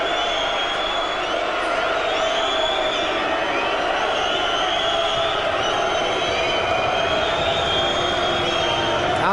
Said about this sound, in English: Crowd's reaction speaks for itself.